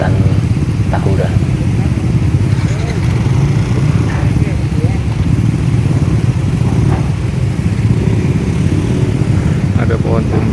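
A motorcycle rides along a forest road through Wanagama woodland, its engine a steady close drone with continuous wind and road noise, broken by faint brief sounds now and then.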